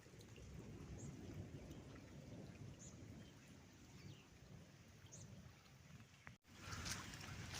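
Steady rain falling outdoors at an off-grid home in Africa, soft and even, with faint distant rumbles of thunder and occasional light drips, no voices.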